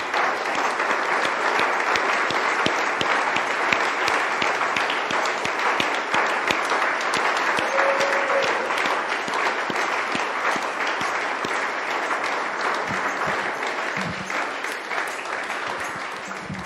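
Sustained applause from a congregation at an evangelical church service, offered as an acclamation. Dense, steady clapping fills the whole stretch at an even level, with no voices over it.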